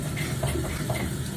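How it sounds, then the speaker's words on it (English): Water runs steadily from a tap as hands are washed in a sink, a brief, continuous close-up splashing rush with no voices. "let me wash my hands first"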